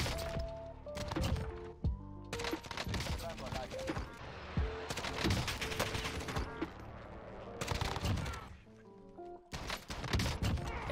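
Rapid bursts of gunfire in the shooting game Call of Duty: Warzone, loud and sharp, coming in repeated three-shot volleys separated by short pauses.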